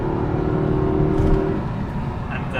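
A Jaguar XK8's engine hums steadily and builds under throttle as the car is driven through a left-hand corner in second and then shifted into third, with someone talking over it.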